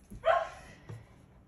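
A dog gives a single sharp bark close by, followed by a softer short yip, with quiet room noise around it.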